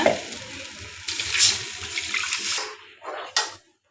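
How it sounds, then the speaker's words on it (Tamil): Water pours steadily into a pan of potato curry with a rushing, splashing sound that tapers off and stops near the end. "குருமாக்கு தேவையான அளவு தண்ணி கலந்துக்குங்க"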